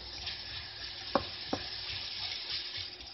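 Onions frying in a pot for an Egyptian okra stew with lamb give a quiet, steady sizzle, broken by two soft stirring knocks near the middle.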